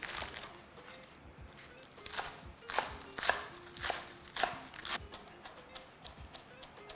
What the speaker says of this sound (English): I'm gonna chop up some scallions.